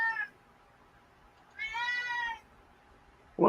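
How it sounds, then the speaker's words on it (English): A house cat meows twice while trying to climb onto a bed, a short cry at the start and a longer one midway, clear and close against a quiet room. "Cat's trying to get on the bed."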